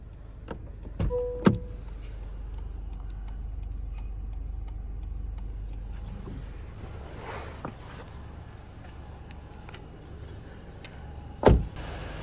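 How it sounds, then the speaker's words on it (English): Power windows on a 2025 Honda Civic V Turbo, the automatic front windows running up and down as a steady motor hum inside the car, with a few sharp clicks and taps around it and no talking. "all windows are electrically powered and both the front windows are automatic up and down"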